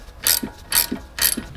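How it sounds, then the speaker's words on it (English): A ratchet loosens the 13mm brake caliper guide screws on the front brakes of a 2017 BMW X1 xDrive 28i F48, giving three evenly spaced bursts of close, crisp clicking, each followed by a soft low knock. "I just released both of the guide screws on the caliper"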